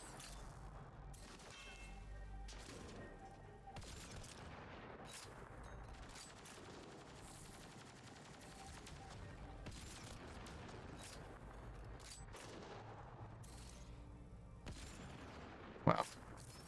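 Gunfire in the Mass Effect Andromeda video game, a continuous dense battle din with repeated bursts of shots throughout and a sharp crack near the end.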